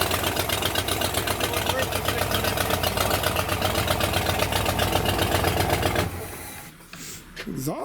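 A 1970 Buick Wildcat's 455 V8 idles loud and rough just after starting, a throbbing rumble through an overly loud exhaust, then cuts out near the end as a voice speaks briefly.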